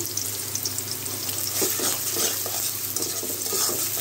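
Onions sizzle steadily in a hot pan, cooking down until soft and lightly reddened for a Bengali eggplant and mola fish chorchori, a constant close frying hiss with faint stirring.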